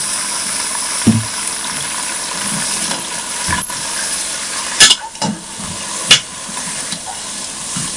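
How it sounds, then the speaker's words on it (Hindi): Beef frying in hot oil with onions while being stirred, a steady sizzle with scattered scraping and clinking stir strokes, close and fairly loud with no talking. "अब हम इसमें फटाफट ये गोश्त डाल के भूनते हैं।"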